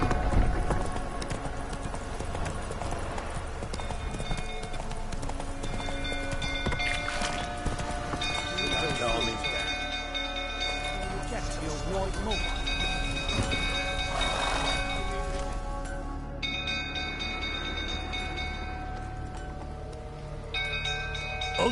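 Roach the horse gallops in The Witcher 3 on PS4 Pro, steady rhythmic hoofbeats running close and continuous over a layer of game music and ambience.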